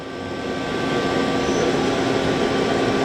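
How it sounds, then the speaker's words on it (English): A 2010 Doosan Lynx 300 CNC lathe with 3-inch bar capacity runs its spindle at 500 rpm, giving a steady, even machine hum with faint whining tones that holds constant throughout, with no talking. "That's a spindle at 500."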